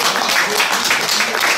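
An audience at a small theatre performance of traditional Korean music applauds. The clapping is dense and continuous throughout this short moment, with a few voices mixed in.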